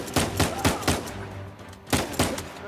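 Gunfire in Uncharted 4: a quick volley of about five sharp, punchy shots, a short pause, then two or three more cracks, fairly quiet overall.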